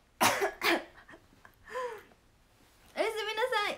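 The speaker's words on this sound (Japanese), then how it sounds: "咳出る。" Two sharp coughs close to the microphone, followed by a short pause and a few soft vocal sounds.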